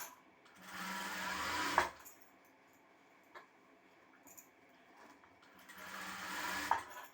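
A sewing machine stitches the front neck piece of a blouse in two loud, steady runs, separated by a quieter pause with a few small clicks, with no talk over it.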